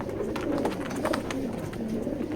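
Racer pigeons in a loft give a continuous low, rolling coo, several birds overlapping in a dense murmur without pause.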